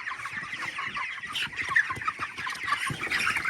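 A crowd of 116 young chickens, moved from the brooder to the farm, clucks and chatters continuously and close by in dense overlapping calls, with no talking.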